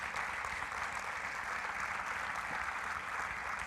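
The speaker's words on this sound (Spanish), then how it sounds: "dale un aplauso al Señor" A church congregation gives a round of applause to the Lord, an even, continuous patter of many hands clapping, fairly soft and distant throughout.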